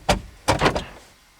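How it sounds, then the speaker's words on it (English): Car door locks on a Chevrolet HHR actuate with a sharp mechanical clunk followed by a quick double-thunk, close and distinct, then quiet. "I hear the door locks and everything working"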